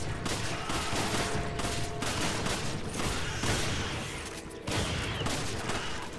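Rifle fire in a video game, aimed at a mutated worm: dense, continuous rapid shooting close up and loud for the whole stretch, with one brief dip before it resumes.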